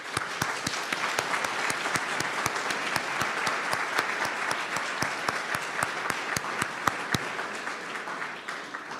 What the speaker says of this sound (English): for all of us to give them a round of applause